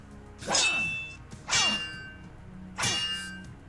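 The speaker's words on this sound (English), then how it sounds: "Like they both hit their blades." Three bright metallic clangs of blades striking, each ringing briefly before fading, spaced about a second apart with no talking.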